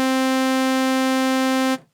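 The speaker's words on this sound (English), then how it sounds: "I'm going to play a middle C sawtooth" A synthesizer holds a plain sawtooth wave on middle C, a steady, bright, buzzy tone with no variation, then stops abruptly after under two seconds.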